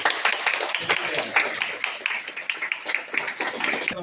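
A crowd at a devotional gathering for the Rajashyamala goddess bursts into sustained, dense applause, many hands clapping in a steady patter close by throughout.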